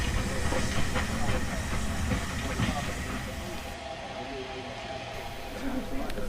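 Brighton Works, a Terrier tank steam locomotive, hisses steam steadily while rolling along with faint rail clatter, a continuous, fairly quiet background rumble with no voices.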